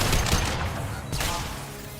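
Video game shooter gunfire, a quick burst of loud shots at the start, then a second shot about a second later, each trailing off into a fading rumble.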